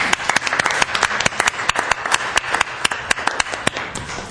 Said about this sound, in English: We should applaud them too.